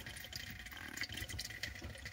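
Water from a disconnected washing machine hose trickling into a bowl, a soft, steady running sound with light splashy detail close by.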